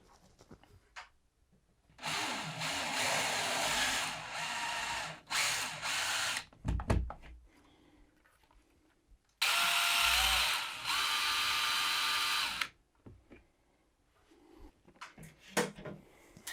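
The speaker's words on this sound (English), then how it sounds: "mark the hole positions ready for drilling." A power drill bores holes for skylight blind rails in two loud whirring bursts of several seconds each, with quieter handling clicks and knocks in between.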